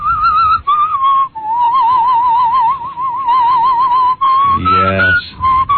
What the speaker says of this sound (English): I can whistle several different ways, including in as well as out